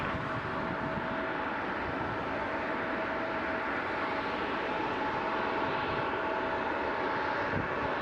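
Steady, broad roar of a jet aircraft taking off on runway 05 at Toronto Pearson airport, heard from a distance as a continuous rushing engine noise with no talk.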